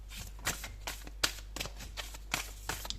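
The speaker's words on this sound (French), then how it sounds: "On va sortir 2 autres cartes." Tarot cards are shuffled and drawn in a quiet room, giving a string of soft, brisk riffling and slapping bursts at an uneven rhythm, close and moderately loud, with no voice.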